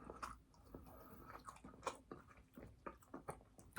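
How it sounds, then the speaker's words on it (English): Someone eating fast-food french fries from a cup, with soft irregular chewing and biting sounds close to the mic, quiet and without talking. "I'm only now eating a fry from the cup."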